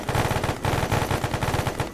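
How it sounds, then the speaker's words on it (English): Rapid, steady automatic fire from the side guns of a Littlebird helicopter in the video game ArmA 3, a dense continuous rattle over a low rotor drone, loud and close with no talk. "side guns, get ready to shoot this guy"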